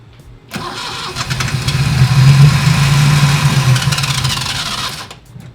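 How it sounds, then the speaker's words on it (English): A Datsun 240Z engine cranks and catches, then runs with a loud, steady rumble for several seconds before cutting off abruptly. "Yeah. Engine works. The engine sounds perfect."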